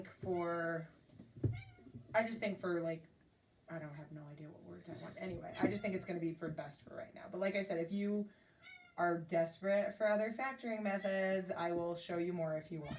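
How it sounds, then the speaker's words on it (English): A loud, whiny house cat meows repeatedly behind a person explaining polynomial factoring, the cries rising between and under the steady speech. "That is the cat. I don't know if you can hear her, but she's very loud and whiny."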